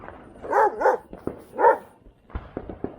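Several sharp dog barks in quick bursts, fairly close, followed by quieter yips and whimpers.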